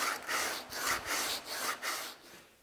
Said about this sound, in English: spend the next hour or so sanding these out